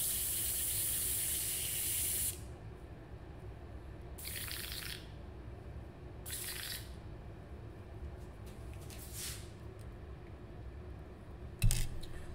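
Short airbrush bursts spraying paint, a hissing spray at the start followed by several brief intermittent puffs of air, fairly close and moderate in level, with a small clatter near the end.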